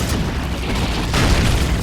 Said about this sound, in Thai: ขึ้นมานี้ก็ระเบิดอีก